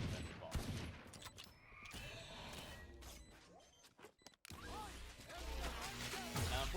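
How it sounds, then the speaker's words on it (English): Sova's ultimate fires in the video game Valorant, a burst of loud blasts and crashing impacts with a brief drop near the middle, followed by further explosive noise. "Unfortunately, this ultimate doesn't actually kill this guy"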